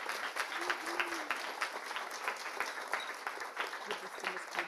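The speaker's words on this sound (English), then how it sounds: "Let's give them a big round of applause." An audience at a school board of education meeting applauds a student team. Steady clapping runs through the whole stretch, with voices murmuring and talking underneath.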